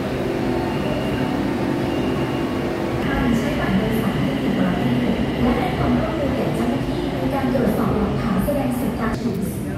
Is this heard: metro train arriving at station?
yes